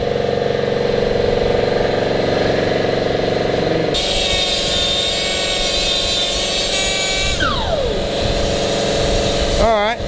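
A power tool cuts the exhaust manifold of a Lancer Evolution X, a harsh, whining grind that starts partway through over a running engine's background drone and shifts in pitch before ending.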